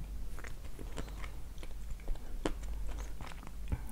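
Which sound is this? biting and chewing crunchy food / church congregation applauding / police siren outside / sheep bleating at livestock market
biting and chewing crunchy food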